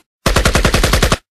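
Automatic rifle fire in a single rapid burst of roughly nine evenly spaced, loud, close shots lasting about a second, with an abrupt start and stop and no voices.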